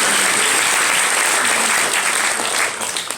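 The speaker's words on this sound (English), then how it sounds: "Would you like to give them a round of applause?" Steady, dense applause from an audience fills the whole stretch, then starts to thin out slightly near the end.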